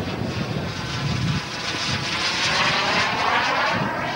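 A steady, loud jet-like roar with a high whine from the turbine engine of a large model Supermarine Swift jet, swelling slightly in intensity, heard close up with no voices.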